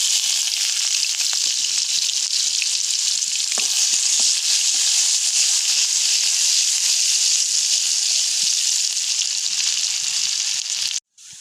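Garlic fries in hot oil in a wok while mango chutney is made, a loud, even sizzle that holds throughout and then cuts off abruptly at the very end.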